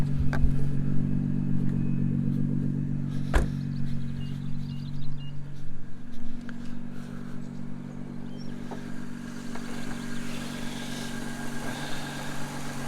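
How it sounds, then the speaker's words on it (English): A 2018 Nissan GT-R coupe's 3.8-litre twin-turbo V6 idles steadily up close, a smooth, even low hum with a faint mechanical clatter and one brief sharp knock partway through. "Give you a little show of the engine."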